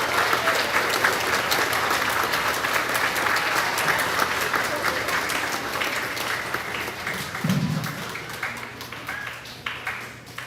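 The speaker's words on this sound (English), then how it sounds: "If we could give them a round of applause." An audience at a grades 4-6 school awards ceremony applauds steadily for several seconds, dense clapping that holds its level before tapering off near the end.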